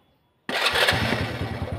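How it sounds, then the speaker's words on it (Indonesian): A 2006 Honda Supra Fit motorcycle engine starts abruptly after brief silence, catching at once and settling into a steady, loud, close-up sputtering idle with a rapid pulsing beat. "oke sekarang untuk pengapiannya oke baik kita starter ya oke starter"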